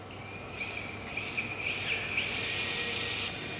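LNC-2200 automatic tool change machine being opened, a steady mechanical hum and whirr with rising scraping, sliding sounds that grow louder toward the end.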